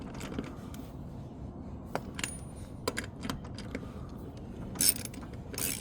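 Close metallic clicks and short ratcheting bursts as wheel nuts are tightened one after another on an EGO Z6 mower tire, spaced irregularly over a low background hum, with no talk.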